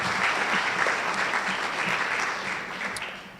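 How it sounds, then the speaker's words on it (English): Steady, full applause from an audience at a district spelling bee, honoring the committee members, continuing without a break and easing slightly toward the end. "Let's give them a round of applause also."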